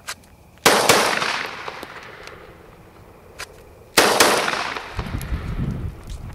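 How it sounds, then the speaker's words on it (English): Two loud, close gunshots with heavy muzzle blast, each a sharp crack followed by a long echoing tail, spaced a few seconds apart in an outdoor training setting. "It's going to be a lot of muzzle blast."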